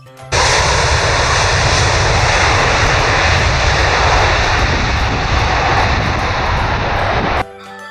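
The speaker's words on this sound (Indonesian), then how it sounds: "Wow, ada pesawat." An airplane engine roars steadily and loudly, a dense broadband rush that holds for about seven seconds before stopping abruptly. No one talks over it.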